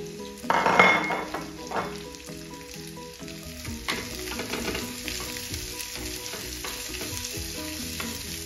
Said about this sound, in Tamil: வெங்காயம் வதங்கி கொண்டு இருக்குது.